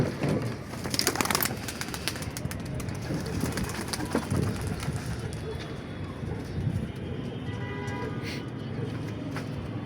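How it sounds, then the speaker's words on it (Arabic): Pigeons coo from a rooftop loft in Imbaba, soft and intermittent beneath steady outdoor noise, with people talking nearby. "في حمام تاني لسه ما طلعش"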